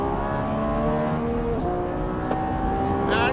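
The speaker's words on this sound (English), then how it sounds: "And just listen to that V12." Lamborghini Revuelto plug-in hybrid V12 engine revving up hard on the move, a loud, continuous rising howl with climbing pitch and brief shifts between gears, heard from inside or close by.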